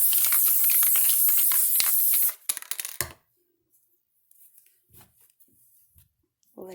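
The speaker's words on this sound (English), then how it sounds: "hit it with a little bit of spray glue" Spray glue hisses from an aerosol can onto fabric in a loud, steady burst of about two seconds that cuts off abruptly, followed by soft handling clicks and near silence.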